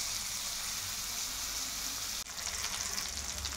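Flour-coated pieces fry in a pan with a steady, dense sizzle that continues throughout. The sizzle briefly drops and then returns with louder crackling. No one speaks.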